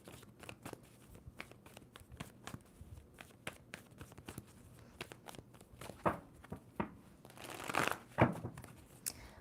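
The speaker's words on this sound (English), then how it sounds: "2 more shuffles for Libra." Tarot cards being shuffled by hand, a quiet series of soft papery slaps and riffles in irregular rhythm, getting a little louder and busier toward the end, close and faint with no talking.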